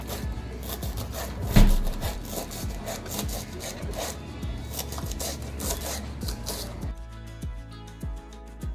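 Knife chopping peeled taro (colocasia) stems finely on a board, a steady run of close, crisp cuts with a heavier knock early on, continuing alone without talk.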